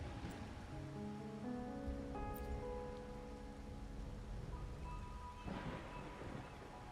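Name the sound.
rain and thunder, Wuthering Waves video game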